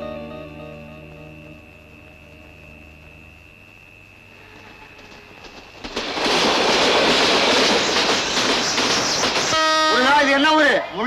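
In a Tamil comedy film scene, a sustained horn tone fades out, then a departing train rumbles and rattles loudly nearby, with a voice speaking and a brief whistle near the end.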